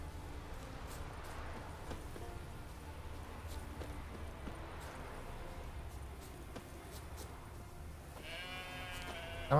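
Sheep bleating in The Witcher 3 on Skellige, a few faint calls over a steady ambient bed with hoof-like clip-clop steps, and a sharper, louder bleat rising near the end.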